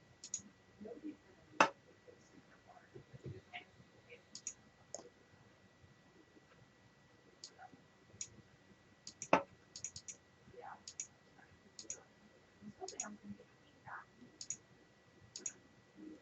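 A computer mouse clicking sharply and intermittently in a quiet room during spreadsheet chart formatting, single clicks scattered irregularly with a couple of louder ones, close and faint overall, with no speech.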